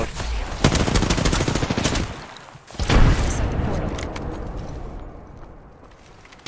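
Shooter video game gunfire, rapid automatic bursts with heavy booming impacts, loud and close, fading into lighter scattered shots; a voice talks over part of it.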